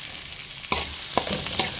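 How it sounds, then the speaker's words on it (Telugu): Onion, green chili and curry leaves dropped into hot oil for an egg curry: a steady sizzle with three sharp bursts of crackle as ingredients hit or are stirred, close and without talk. "అదే ఆయిల్లో ఆనియన్ పచ్చిమిర్చి కరివేపాకు అయితే వేసేసేయాలి"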